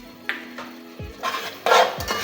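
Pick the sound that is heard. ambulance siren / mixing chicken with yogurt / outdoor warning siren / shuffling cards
mixing chicken with yogurt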